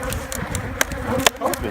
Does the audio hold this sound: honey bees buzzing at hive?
yes